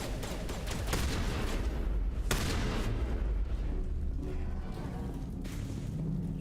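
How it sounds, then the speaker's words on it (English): Repeated gunfire bursts and booms from shotguns in a firefight in Mass Effect Legendary Edition, with one sharp loud blast standing out amid dense continuous combat noise. "Shotgun time?"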